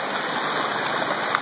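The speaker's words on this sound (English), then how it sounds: "Nice consistent water flow going through." Creek water flowing steadily past a dredging operation, a constant broadband rush and gurgle close by with a faint high electronic whine running through it.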